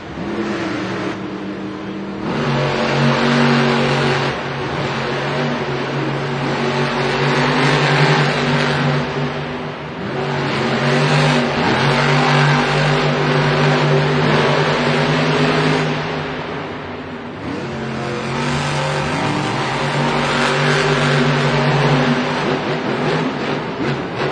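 Monster trucks race at a Monster Jam event in Singapore, their engines roaring loud and sustained and rising and falling with each rev, under a continuous arena rumble.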